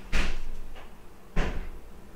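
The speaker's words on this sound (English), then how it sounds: "you heard how they slamming the door up against the fucking wall" A door slams hard against a wall indoors, two loud sharp bangs about a second apart with a fainter knock between them.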